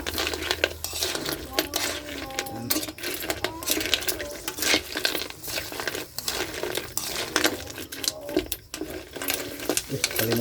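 Crab being stirred in coconut milk in a cooking pot, with repeated scraping and clinking of a utensil against the metal over several seconds. A gentle simmer sits underneath, and someone talks at times.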